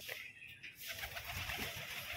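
Foreign pigeons kept for sale coo softly in a few low, throaty calls against quiet background noise.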